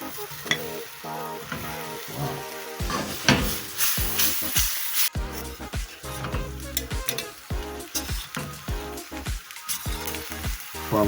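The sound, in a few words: prawns added to a hot pan, sizzling and stirred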